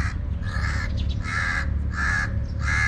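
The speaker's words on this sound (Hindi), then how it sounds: "तो कौवा भी गुस्सा कर रहा है वहाँ पे" A crow caws four times in a steady rhythm, loud and close, with harsh repeated calls over a constant low outdoor rumble in a historic neighbourhood in Dubai.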